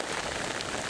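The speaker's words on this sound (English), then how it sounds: "An afternoon downpour gave Palomar Mountain a good soaking" Heavy rain pours steadily on Palomar Mountain in a dense, continuous hiss of drops striking surfaces, loud and close with no voices.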